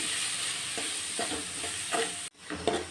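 Two medium onions, finely chopped, frying and being stirred in hot oil for an egg curry, a steady sizzle broken by several soft stirring scrapes, a brief cutout, then more stirring, with no talk.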